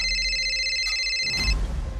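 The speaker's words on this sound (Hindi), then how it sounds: "नीरज के घर से फ़ोन आया।" A telephone rings with a steady, bright electronic trill for about a second and a half, then cuts off into low rumbling background noise, with no talking.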